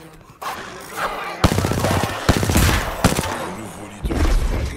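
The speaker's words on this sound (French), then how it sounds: "Oh, elle est efficace, bien la mitraillette en tout cas." Submachine gun fire in the battle royale game Apex Legends: loud, close bursts of rapid shots with sharp impacts and booms, firing in several runs with brief breaks between them.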